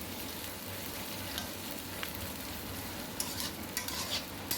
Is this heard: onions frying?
yes